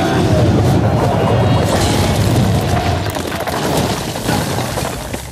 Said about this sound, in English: If you don't have a Lewis bag at home, which is what this is, allows us to mash up tons of crushed ice.